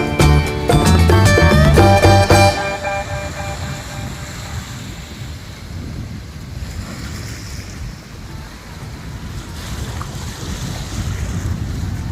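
Ocean surf breaking where the sea meets a backwater near Thiruvananthapuram, a steady loud wash of waves with heavy wind rumble on the microphone throughout, a brief burst of tonal noise at the start.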